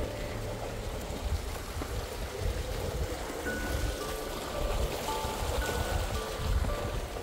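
Clear water flows at Mawsawa falls in a steady, close rush with a splashing, trickling texture. The sound is continuous and moderately loud, and no voices are heard.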